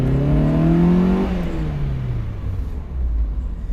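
A 1990 Mazda Miata engine revs up loudly, then drops as it shifts or eases off, leaving a steady close-up whir and rumble of the running car with no talking.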